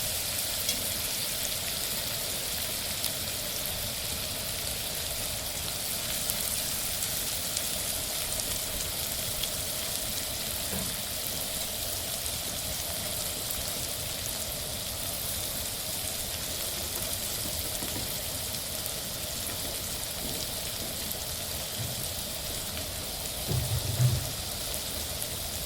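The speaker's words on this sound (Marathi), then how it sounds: "कांदा छान लाल होईपर्यंत परतून द्यायचा." Onion frying in a pan after cumin, a long, even hiss of sizzling close up, with only a brief knock near the end.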